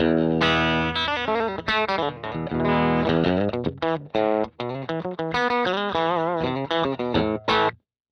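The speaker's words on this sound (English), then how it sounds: "So like super spanky Telly tones" FretKing Country Squire electric guitar with a bright, twangy Telecaster-style bridge-pickup tone, played as quick picked licks and chord stabs, clear and close, with no voices.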